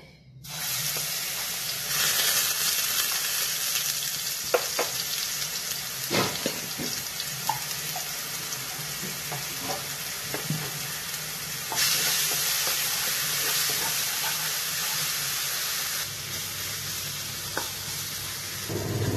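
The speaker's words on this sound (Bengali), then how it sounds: "ভাজা হয়ে গেছে মশলাটা" Spice masala fries in a pan for a tengra fish curry, giving a steady close-up sizzle with occasional scrapes and taps of stirring, with no talk over it.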